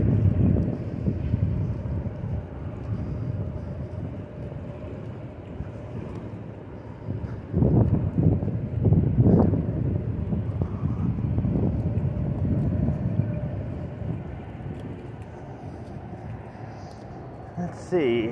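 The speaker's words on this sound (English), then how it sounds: "It's almost always windy down here under the bridge." Wind gusting under the Blue Water Bridge along a river walk, buffeting the microphone in a steady roar with stronger bursts midway, while a person talks over it at times.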